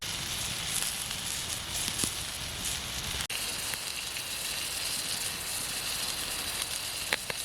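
Sausages sizzle and crackle over an open campfire at a mossy bushcraft camp, a steady close hiss with a sharp click partway through and no talking.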